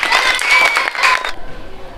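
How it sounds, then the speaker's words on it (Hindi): Children clap for the winning team in a classroom game, a loud burst of scattered handclaps for about a second and a half, then stopping abruptly into quiet room noise. "इनके लिए तालियां बजा दो एक बार जोर से"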